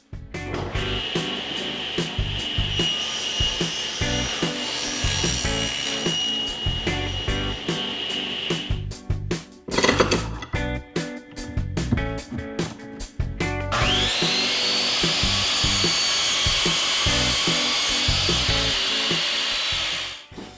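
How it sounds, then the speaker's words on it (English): A saw rips 3/4 inch plywood into 3-inch strips, a loud, harsh cutting roar in two long passes separated by a brief choppy pause as the blade spins down and bites again. "I'll rip strips of 3/4 inch plywood at 3 inches."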